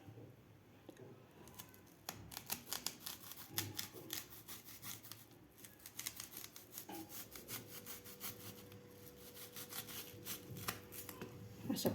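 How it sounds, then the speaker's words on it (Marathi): Repeated crisp knife strokes cut a raw onion into rings on a chopping board, a steady rhythmic slicing heard up close with no talk. "आपल्याला हे कांदे कापून घ्यायचे आहेत"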